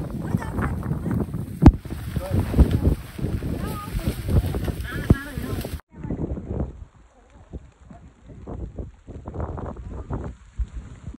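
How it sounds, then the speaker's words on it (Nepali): Gusty wind buffets the microphone in rough, uneven bursts on Bukhansan Mountain in South Korea, with people talking under it, before a quieter stretch with fainter rustling; light rain is falling. "हावा यस्तो चलिरहेको छ"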